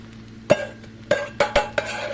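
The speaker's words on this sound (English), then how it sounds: "Stir it in, make sure all those vegetables get incorporated evenly" Homemade vegetable fried rice being stirred in a pan, with a spatula clacking and scraping in five sharp, irregular strikes over a low steady kitchen hum.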